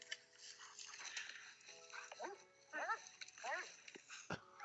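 Dogs eating, with whimpers, yips and short whining cries over chewing noises at moderate distance, while people talk over much of it.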